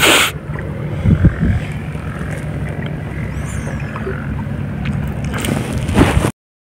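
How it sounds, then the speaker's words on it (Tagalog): A steady Yamaha Enduro 15-horsepower outboard motor drones close by, with wind buffeting the microphone throughout and a louder burst at the start. "Ayan yung makina ko, Yamaha Enduro 15 horsepower."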